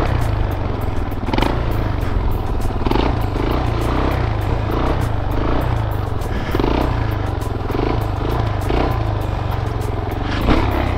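Motorcycle engine revved while working the clutch, a steady loud rattling drone with rhythmic surges and clattery pulses throughout, close to the listener.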